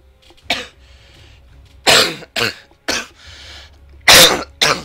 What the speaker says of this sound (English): very sorry about cough